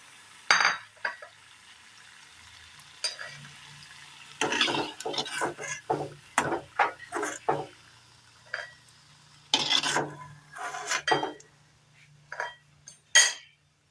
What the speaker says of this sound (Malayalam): ഇത് നമുക്കിനി കോരി മാറ്റാം.